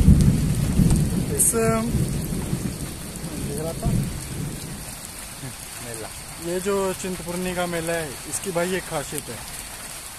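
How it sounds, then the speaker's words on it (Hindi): Steady rain pours down with rumbles of thunder at a village fair in India, while someone talks in Hindi over the downpour throughout. "और आज भी देख लो बारिश हो रही है।"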